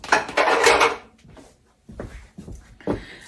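Celery and onion set down in a kitchen sink during chili prep, giving a loud, busy clatter of dish and utensil knocks up front, then a few scattered softer bumps and clunks.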